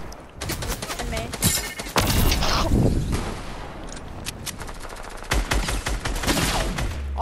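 Gunfire erupts in a Fortnite match, sharp shots and rapid bursts from a sniper rifle and other weapons cracking in clusters over several seconds, with a player's voice talking over parts of the fighting.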